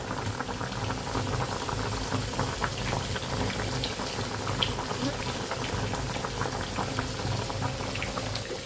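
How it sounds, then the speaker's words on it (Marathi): A pot of vegetable curry bubbles at a steady rolling boil, a dense, continuous simmering close by with no talk over it. "भाजीला पण मस्त उकळ आलाय आणि शिजली असेल आता."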